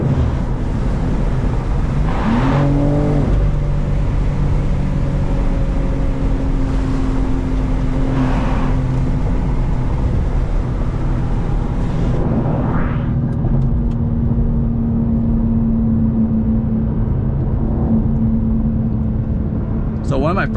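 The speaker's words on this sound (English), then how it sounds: "roll the window down a little bit, put the sunroof down out a little bit so you can kind of hear that exhaust" A 2025 BMW M2 with M Steptronic cruises on a highway with its exhaust droning low and steady under road and wind noise from the cabin, the tone sweeping slightly with throttle while a person talks over it.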